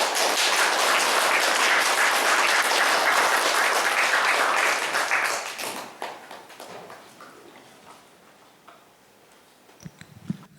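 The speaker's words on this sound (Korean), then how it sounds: "여러분 나오실 때에 큰 박수로 환영해 주시면 감사하겠습니다." A church congregation gives a big round of applause to welcome a missionary pastor at Sunday worship. The dense clapping is loud and steady for about five seconds, then thins out and dies away to a quiet room with a few scattered small knocks.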